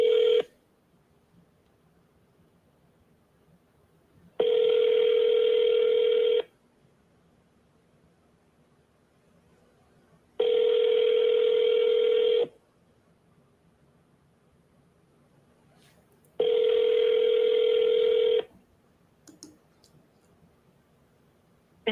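A phone call rings out unanswered before reaching voicemail: three evenly spaced, loud two-second ringback tones separated by long silent gaps, with no talking.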